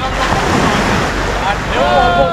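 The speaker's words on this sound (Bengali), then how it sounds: "একদম ঢেউটা দেখো, ঢেউ দেখো, জলের কালার দেখো, পুরো পরিষ্কার।" Waves surging and breaking on an Arabian Sea beach, a steady broadband wash with wind buffeting the microphone and a voice talking over it throughout.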